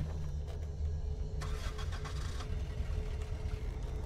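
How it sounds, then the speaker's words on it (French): Small vehicle engine in the game Dead Island: Definitive Edition cranking and catching, a low steady engine rumble with a brief burst of higher rattling noise midway, fairly quiet throughout. "on prend le petit véhicule"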